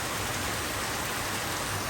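Torrential monsoon-style rain beats down without pause, a loud, uniform rushing hiss with no gaps, no voices and nothing else breaking through.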